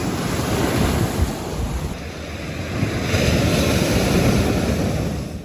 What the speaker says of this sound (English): As the waves crash up on the shore, water rushes over large rocks on the beach.